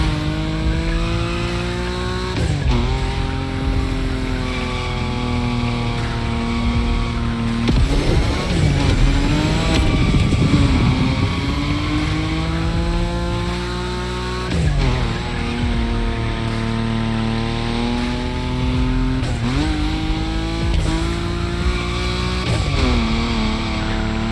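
A Nissan Nismo car drifting at high speed in The Crew Motorfest racing game, its engine droning loudly throughout with shifting pitch and bursts of tire squeal.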